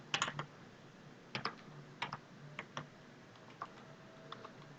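Someone types on a computer keyboard nearby: a dozen or so separate, irregular key clicks, some in quick clusters and others spaced apart, over a quiet background.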